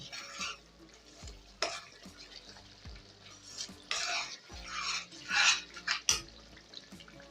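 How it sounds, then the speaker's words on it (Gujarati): A spoon scrapes and clinks around a pan, stirring spices in irregular strokes, with a soft sizzle underneath and occasional louder metallic knocks, close by. "હવે આપણે બધો મસાલો પાછો સરસ રીતના મિક્સ કરી લઈશું"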